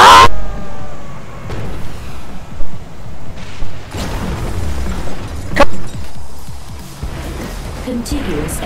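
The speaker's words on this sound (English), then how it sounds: "Contiguous explosions." Video game explosions from ScreamRide on Xbox, with several booming blasts and crashing debris bursts spaced through the clip, mixed with game sound and a voice talking.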